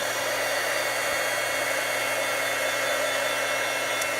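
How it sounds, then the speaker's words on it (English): A heat tool blows steadily over a watercolor card to dry it, a loud continuous close-up whooshing roar with a faint electric hum that stays unchanged throughout. "this is almost dry, so let's help it along with our heat tool"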